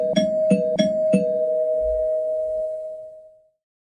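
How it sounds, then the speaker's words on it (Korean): A doorbell at an apartment's front door is pressed over and over: four quick, bright chimes in a row, then one long tone that slowly fades to silence. "끊임없이 초인종 소리가 울리더니"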